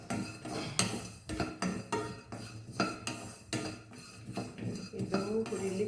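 Jackfruit seeds are stirred and roasted in a pan for coffee powder, with repeated metallic scrapes and clinks of a utensil against the pan in an uneven rhythm, close and moderately loud.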